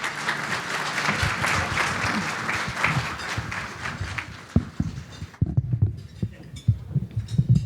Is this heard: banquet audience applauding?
yes